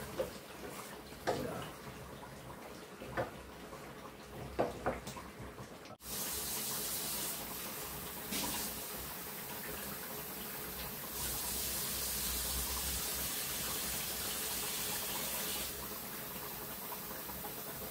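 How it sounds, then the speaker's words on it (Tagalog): A faucet runs into a pot, starting with a few light clinks before a steady, loud rush of tap water fills the rest. "Tapos lalagyan ko siya ng tubig."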